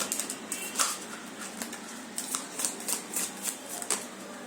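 Tarot cards are shuffled close up in a run of quick crisp riffling bursts, each snap of cards sounding sharp against a quiet room, with no one talking.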